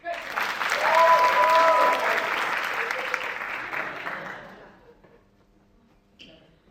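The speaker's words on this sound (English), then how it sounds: "round of applause for Mike Boyd." A theatre cabaret audience breaks into applause for a performer, swelling quickly to a full, close burst of clapping with some faint voices, then tapering off into near quiet.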